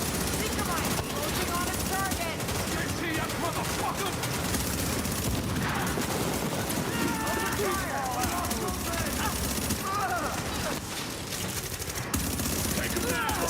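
Continuous SMG and other gunfire rattle through a firefight in the shooter The Division, a loud, unbroken barrage of rapid shots with voices and game noise mixed underneath.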